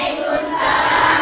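Applause from a classroom audience after a group presentation. A dense, steady wash of clapping fills the whole second and grows slightly louder toward the end, with no voices on top.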